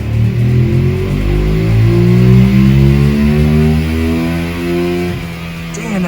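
A Ducati Monster 1200 motorcycle revs hard on a dyno, its engine note climbing steadily through the gears in loud, close, rising sweeps before dropping off sharply near the end.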